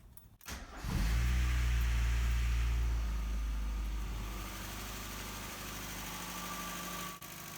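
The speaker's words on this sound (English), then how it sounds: "So with the first startup, usually the valve lifters make a boatload of noise." A 1990 Mazda Miata with a freshly rebuilt engine fires on its first startup, cranking briefly then catching into a loud, steady idle with a busy ticking clatter from noisy valve lifters, heard up close.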